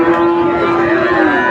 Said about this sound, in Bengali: দেখুন চারিদিকে শুধু গরু আর গরু দর্শক